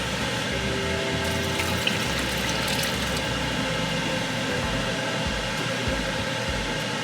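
A milk and water mixture pours into a pot of Zuppa Toscana soup, a steady, rushing liquid wash over a low background rumble, continuing without break and with no talking.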